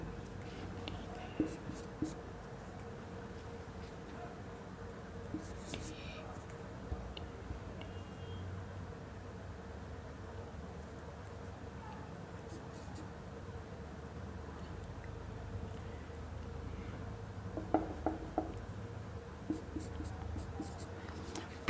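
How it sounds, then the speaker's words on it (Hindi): Someone writes a word on a board in a quiet room, making faint, sparse strokes and occasional light taps spread across a long, hushed stretch with a low steady background hum. "जैसे एक मैं वर्ड लिख रहा हूँ, उसको आप शॉर्ट में लिख रहा हूँ।"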